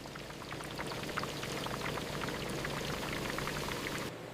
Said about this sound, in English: A short fry sets the outside while the inside stays soft.